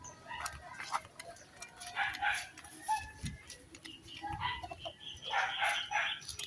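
A tied-up chicken that had not been eating, being fed, with soft clucks and scattered pecking or ticking sounds, close and quiet, with faint background noise.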